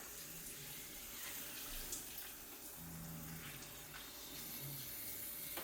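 Brown coolant water draining from the open radiator of a GMC Typhoon, a steady watery trickle and splash running continuously at low level.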